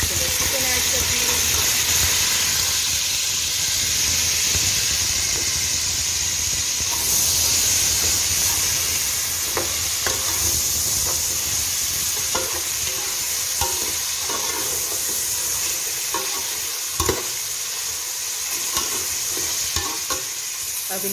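Boiled chicken and onions fry in a pan for Afghani pulao, a continuous loud sizzle broken by repeated scraping and clacking strokes as the pieces are stirred.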